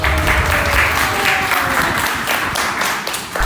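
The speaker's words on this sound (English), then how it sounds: "please have huge round of applause" A crowd at a popping dance workshop applauds steadily and loudly for a dancer, a dense wash of clapping that holds throughout and thins slightly at the very end.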